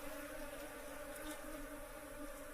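Steady droning buzz of many bees, faint and continuous, no voices.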